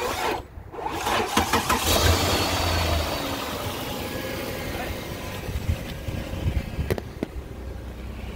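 A 2009 Dodge Journey with a bad starter and low battery cranks and fires up after a jump start, the engine catching into a steady mid-pitched idle with some clunks close by.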